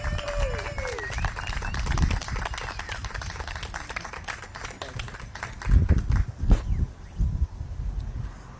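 A crowd claps outdoors on a very hot day at a reproductive rights march in Raleigh, North Carolina. The applause is scattered and irregular, with occasional louder claps and some background voices and noise.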